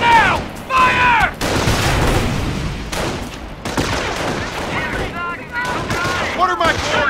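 Rapid battlefield gunfire from the World War II strategy game Company of Heroes, with steady volleys and bursts close at hand under shouted voices, plus a few whistling tones.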